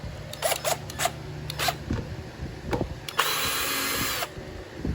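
A 10 mm socket on a power driver spins out the air box bolts on a 2015 Lawn-Boy 10730 mower with a Kohler engine, giving short whirring bursts and then a longer steady drive run, close up.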